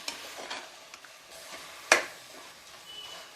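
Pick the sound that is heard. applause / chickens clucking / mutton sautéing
mutton sautéing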